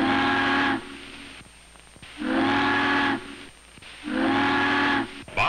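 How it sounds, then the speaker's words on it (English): A big ship sounds three long, loud steam whistles, each a sustained tonal blast about a second long with pauses between, signalling the harbor bridge tender. "Bob listens for her to signal for the bridge. 3 long whistles."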